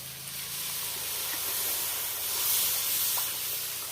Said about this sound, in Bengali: আমি একটু জল দিচ্ছি।